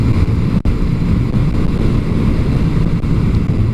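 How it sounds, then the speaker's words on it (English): Strong wind blasting across the microphone outdoors, a constant loud low rumble with buffeting and a brief dropout, no voices. "It is seriously windy."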